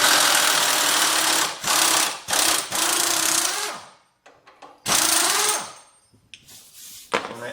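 A heavy power impact tool hammers loose a tight sway bar bolt on a Jeep Wrangler JK Rubicon during a lift kit install, in loud close bursts of rapid rattling with short pauses between them.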